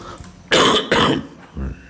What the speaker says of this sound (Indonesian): Batuk ni.